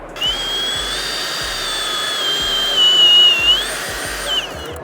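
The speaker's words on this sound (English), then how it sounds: "And the drill bit doesn't fall out on the other side." A power drill whirs steadily at a high pitch for several seconds, driving a GRK auger bolt, its tone straining and rising slightly near the end, close by.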